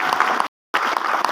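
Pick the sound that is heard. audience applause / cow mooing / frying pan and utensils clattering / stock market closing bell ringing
audience applause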